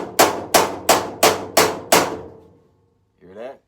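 A hammer raps a welded metal car body panel six times in an even, ringing rhythm, each strike loud and close with a short metallic decay, followed by a brief voice.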